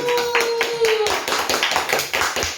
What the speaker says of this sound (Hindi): अब हम हिमांशी जी का स्वागत करते हैं तालियों से।